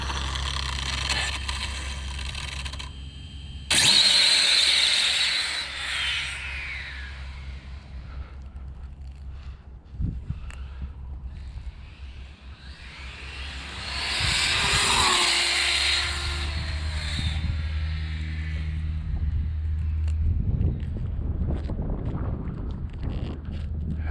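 An Exceed Mad Drift 6s RC car on a road makes two loud, rising motor whines during drag pulls, around the fifth and fifteenth seconds, against steady wind rumble and a low background drone.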